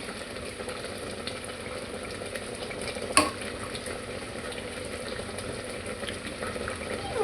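Seeds frying in ghee for a tempering give off a steady, quiet sizzle throughout. A single sharp clack sounds partway through.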